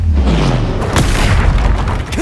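A Bombarda exploding spell goes off in Hogwarts Legacy, a loud, heavy boom with a sharp crack in the middle, a dense rumbling burst that sustains briefly before trailing off.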